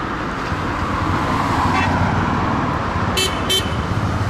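Car horns give two short, clear beeps over a constant roar of busy street traffic in Egypt.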